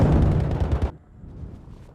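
Explosions in the video game Battlefield V: a loud, dense burst of blasting and rumbling for about a second, cutting off sharply into a quieter crackling rumble.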